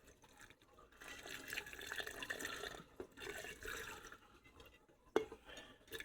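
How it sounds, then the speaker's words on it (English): Water that has been soaking with stones pours and trickles into a container, a light splashing flow in uneven bursts with a few drips and small knocks, close and fairly quiet. "I'm gonna use some of this water that's been soaking for a while with these stones."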